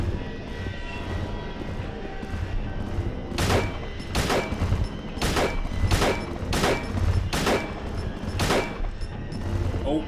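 Handgun shots in Silent Hill HD Collection against Pyramid Head, seven loud single reports spaced about a second apart over a low rumbling game background.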